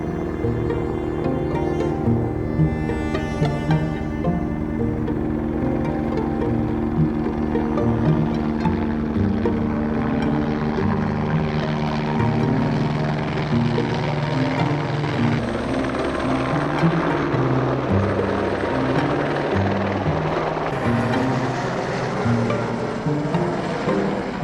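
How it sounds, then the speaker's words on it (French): A helicopter resupplying a mountain hut in the Hautes-Alpes passes close overhead, its loud, continuous rotor thump and engine drone holding steady throughout. "Avant même d'arriver au refuge, on assiste au ravitaillement en hélicoptère."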